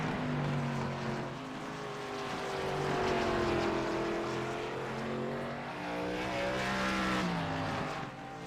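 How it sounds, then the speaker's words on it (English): Race car engine on a short track with sweeping curves at South Boston in an ARCA event, a steady engine drone that rises and falls in pitch as the car passes. It is heard from a distance, with no talk over it. "I hear that engine roll."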